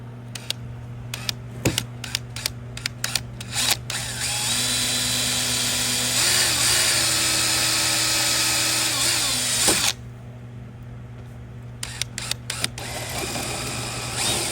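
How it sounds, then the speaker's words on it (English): A power drill with a 5/8 inch hole saw cuts a hole through a plastic golf cart dash, a steady close whirring drone lasting about six seconds between scattered clicks and handling noises. "Now we're going to drill a hole right here for our Gen 3 battery wake up button."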